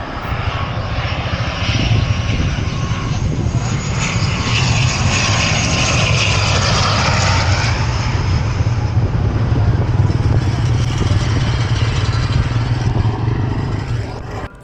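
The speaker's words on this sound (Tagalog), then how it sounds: "dito nga rin natin makikita ang mga iba't ibang klase ng eroplano na lumalanding" A fixed-wing airplane's engine roars loudly and steadily near an airport runway, swelling and sustaining throughout with no talk.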